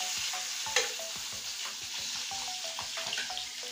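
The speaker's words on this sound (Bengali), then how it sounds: "এটা ভাজার বাকি আছে শুধু পাবদা মাছ। এবার তেলে ছেড়ে দিচ্ছি।" Pabda fish frying in oil: a constant close sizzle with repeated quick scrapes and taps of a spatula, one sharper knock near the start, and no one speaking.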